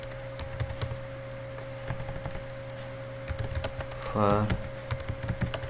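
Clicks of typing on a computer keyboard come in scattered bursts and short runs, with someone speaking briefly over a steady background hum.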